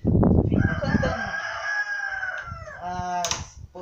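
A backyard rooster at a home gives one long, loud, close crow, with a brief rising start, a sustained wavering middle and a sharp final squawk, heard alone without talk.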